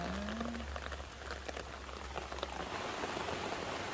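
Monsoon rain falling on potted lotus-shaped stonecrop plants in clay jars: a soft, even patter of drops heard from close by, with a faint low hum underneath and no talk.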